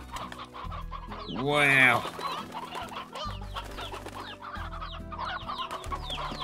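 Chickens and a rooster cluck in a Slime Rancher coop, with one louder, rising call standing out briefly amid steady game music and a short spoken exclamation.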